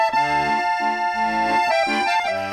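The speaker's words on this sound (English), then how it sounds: "have you seen someone play an accordion before? Yeah, kind of sounds like this." Accordion playing a bright reedy melody over pulsing bass chords, steady and fairly loud, with no voices.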